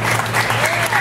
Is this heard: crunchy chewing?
no